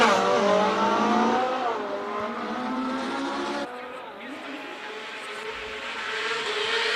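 A front-wheel-drive Volkswagen Golf race car with a 2-litre 16-valve turbo engine at a hillclimb, its engine loud and close as it revs through shifting pitches with a gear change midway, heard beneath ongoing commentary.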